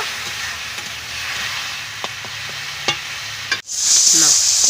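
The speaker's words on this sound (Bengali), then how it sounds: "ভালো করে নাড়াচাড়া করে সামান্য একটু জল দেব ভালো করে এটা কষিয়ে নিব" Fish masala with coriander and cumin powder frying in a pan, a soft sizzle punctuated by a few light scrapes of stirring, then a brief drop and a sudden louder hiss as something is added near the end.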